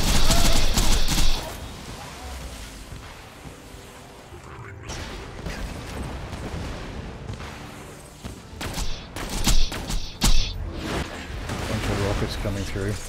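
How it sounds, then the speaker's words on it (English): Rockets firing and exploding in Borderlands combat, a loud opening blast followed by rumbling explosions, mechanical clatter and quick bursts of fire, building to several sharp close impacts near the end. "Bunch of rockets coming through."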